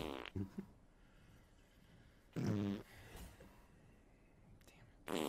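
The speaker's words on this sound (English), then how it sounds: "this fart compilation that I forgot was over a minute long" Fart sound effects from a compilation, a few loud bursts of crackly, buzzing noise separated by quieter stretches of low background hiss.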